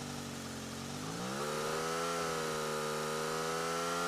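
Motorcycle engine in the battle-royale mobile game BGMI, a steady mid-pitched drone that revs up and climbs in pitch around the middle, continuous and loud with no talking.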